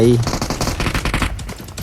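Vector submachine gun firing in PUBG Mobile, a rapid automatic burst of gunfire running through the whole short stretch at steady loudness with dense, crackling shots.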